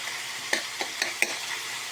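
Ground beef fries in a pan for Filipino spaghetti, a soft continuous sizzle broken by three or four quick scraping clicks of a stirring utensil, close and quiet with no talking.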